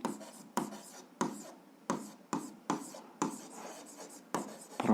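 Pen or pencil scratches on paper while working a 7th-grade algebra exercise, with about nine close, distinct strokes in a steady rhythm, each fading quickly, and no talk over them.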